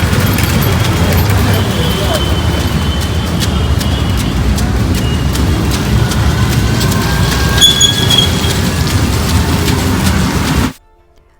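Train noise at Nizamuddin railway station: a steady rumble with faint wheel squeal and clicks, loud throughout, ending abruptly.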